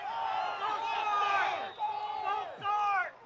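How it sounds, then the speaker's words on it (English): A high school football crowd at a Los Fresnos Falcons versus Harlingen South game roars with sustained cheering and yelling. The noise swells in waves, dips briefly and then surges again, loud and dense throughout. "here goes the crowd. They're into it now, Joe."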